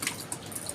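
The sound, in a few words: water dripping from leaking ceiling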